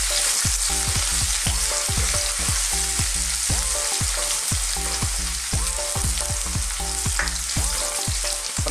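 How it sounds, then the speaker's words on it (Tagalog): Chopped onion and garlic sizzling together in hot oil for a goat kaldereta, a loud, steady crackling fry close to the pan, with a regular pulsing scrape of stirring running through it and no talk. "ang gagawin natin ay lalagay na natin ang sibuyas at ang bawang ng sabay."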